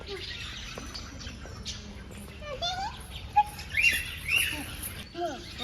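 Sparrows at a bird park give brief, scattered chirps and tweets, fairly faint under children's voices and family chatter nearby.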